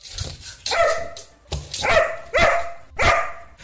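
A dog barks loudly and close, four sharp barks in a loose rhythm with short pauses between them and no talk.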